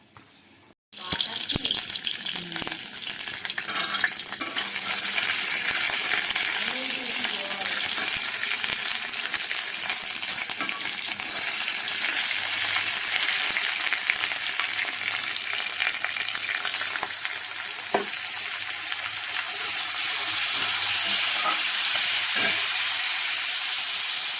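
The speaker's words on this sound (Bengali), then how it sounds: "সাদা জিরেটা হালকা কয়েক সেকেন্ড নাড়াচাড়া করে নেবার পর দেবো 1 চামচ আদা বাটা।" Cumin seeds and ginger paste hit hot oil in a pan for a paneer dish, bursting into a loud, continuous hiss of sizzling that holds steady throughout, with a few faint stirring knocks.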